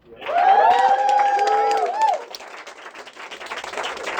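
Open-mic poetry audience applauding and cheering for a poet, a loud burst of crowd clapping that starts after a shouted voice and carries on steadily, thinning slightly toward the end.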